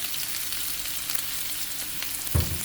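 Prawns frying in a pan with ginger garlic paste, a steady close sizzle with light stirring and a soft clunk near the end.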